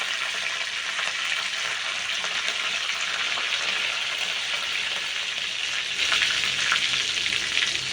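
Ginger, curry leaves, asafoetida, pepper and cumin sizzling in hot oil as a tempering for rava pongal, a steady dense frying hiss close by throughout, growing slightly louder near the end, no voices.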